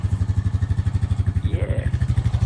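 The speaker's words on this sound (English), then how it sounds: "That's the old Honda Ranger. It's a tractor." An old Honda Ranger riding tractor's small engine chugs steadily and close by, its even pulsing loud and unbroken throughout.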